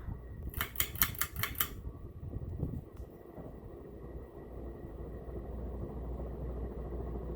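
An SMC A52 Old Vic ornate 52-inch ceiling fan runs on its high setting, giving a steady low whirring hum that fills the room after a brief burst of rapid clicking at the start.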